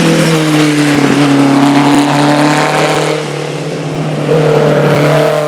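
A classic single-seater race car, a type once raced at Brands Hatch, revs hard at a hillclimb start line, its loud engine note rising and falling steadily with a brief dip before climbing again.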